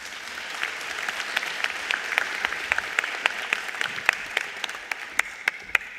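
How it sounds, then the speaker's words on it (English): Applause at a ministerial announcement of national school exam results, with steady clapping from a crowd and sharp individual claps standing out near the microphone throughout. "Another round of applause, please, for MTN SA CFO, Ms. Dineo Molefe"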